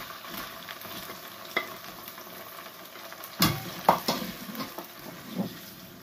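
Ginger-garlic paste cubes and tomatoes frying and being stirred in a pan for spinach chicken, a steady close sizzle broken by several sharper scraping stirs and clatters toward the end.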